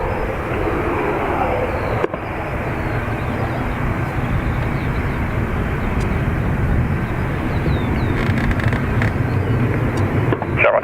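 A fixed-wing aircraft takes off from runway 28 right at Dublin Airport, a steady, loud broadband engine roar held throughout with some wind buffeting on the microphone.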